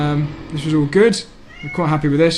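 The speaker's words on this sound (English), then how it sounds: "You can hear my cat meowing for some food in the background." A domestic cat meows for food in the background while someone talks steadily over it, the short plaintive meows rising in pitch and fairly close.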